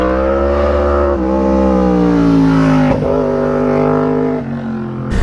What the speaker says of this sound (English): in terms of engine noise, I think everyone can appreciate how good this thing sounds